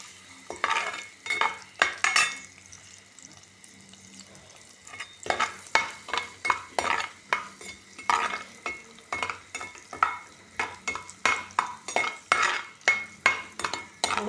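Plenty of garlic sautés in oil in a cooking pot while a spatula stirs it in quick, rhythmic bursts of scraping clicks over a soft sizzle, with one brief pause.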